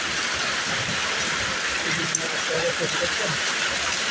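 A hailstorm pours down as a steady, dense wash of pattering and hissing, close and unbroken for the whole stretch, with a faint voice murmuring underneath.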